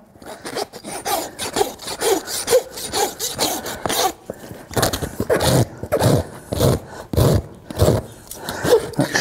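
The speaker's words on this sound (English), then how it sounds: "Shape the hoof off a bit." A farrier's rasp shapes the low heel of a horse's hoof during a trim, giving a steady run of loud, coarse scraping strokes in an even back-and-forth rhythm, close up with no talking.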